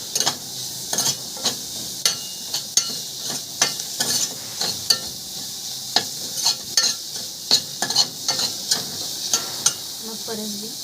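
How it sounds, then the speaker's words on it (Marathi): Carrots and mixed vegetables sauté in a pan for khichdi, a steady sizzle broken by repeated sharp scrapes and clacks of the stirring spoon, close and fairly loud, with no talking. "आपण गाजरला थोडं परतून घेऊया, गाजराला थोडा वेळ लागतो"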